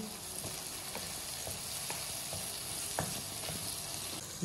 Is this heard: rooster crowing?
no